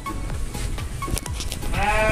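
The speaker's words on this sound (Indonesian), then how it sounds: "Ini juga beberapa koleksi dari domba jantan super kita" Several rams bleat in a pen at a Yogyakarta livestock collection of prized breeding male sheep, short wavering bleats, close and fairly loud, with the last call held longer.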